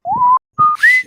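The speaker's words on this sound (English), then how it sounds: "That's the kind of note where you can only whistle it between your teeth." Someone whistles a single sharp note through the teeth in two brief rising bursts, close and loud, with no talking.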